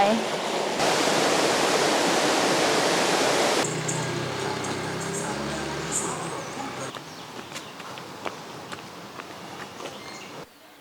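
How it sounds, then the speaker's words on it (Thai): Steady rushing water flows continuously, a forest stream's wash beside a road at Ban Pa Miang, Lampang, Thailand, filling the background with a few faint ticks and birdlike chirps over it. "จะเป็นลำธาร"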